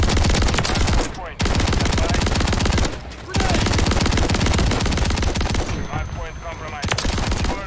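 Rapid, loud gunfire from a weapon in Call of Duty: Modern Warfare III, sustained bursts of quick shots with two brief pauses, dense and close throughout.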